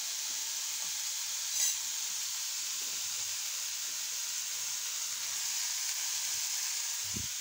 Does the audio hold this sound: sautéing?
yes